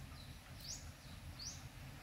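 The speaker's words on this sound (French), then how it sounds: "on entend des oiseaux en ce moment" Outdoor birds chirp in Quebec as early summer arrives, giving a couple of brief, faint high calls spaced about a second apart over a low, steady background hum.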